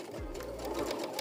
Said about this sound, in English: I'm just stitching on top of my existing side seam.